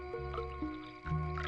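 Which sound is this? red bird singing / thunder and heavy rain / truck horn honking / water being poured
water being poured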